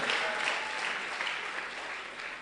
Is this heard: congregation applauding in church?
yes